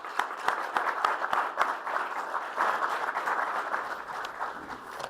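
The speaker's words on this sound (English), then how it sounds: "Let's give them a round of applause" An audience applauds graduates of the Solar Ready Vets program at a 2017 graduation ceremony, a steady, moderately distant wash of many hands clapping that holds for several seconds.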